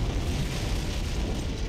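An antimatter charge blast aboard a ship in a Halo: Combat Evolved cutscene: a sustained, loud, dense roar of explosion rumble with heavy low end and no clear separate bursts.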